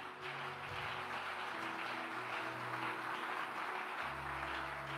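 Audience applause at a sermon, a steady wash of clapping that fills the whole stretch at an even level.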